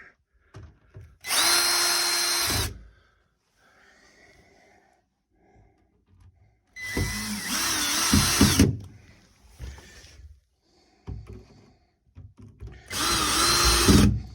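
A power drill drives 1.5 inch Phillips brass screws into a wooden roll top desk during assembly, with three loud whirring bursts separated by quieter pauses with faint handling noises.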